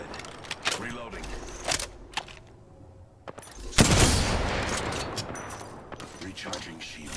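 Rapid gunfire bursts from the video game Apex Legends, loud and close, with sharp repeated shots and a heavy sustained barrage midway, under intermittent in-game voice callouts.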